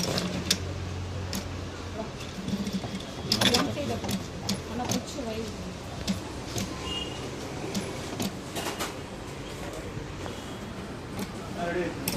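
A Jack A4C industrial sewing machine running in short bursts of stitching with clicks and mechanical rattles, heard under a salesperson's ongoing talk in a small shop.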